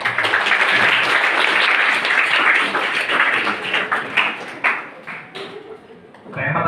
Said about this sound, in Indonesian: Sebelumnya tepuk tangan untuk semuanya.